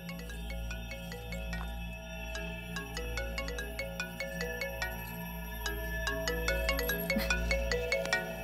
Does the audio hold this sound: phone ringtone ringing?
yes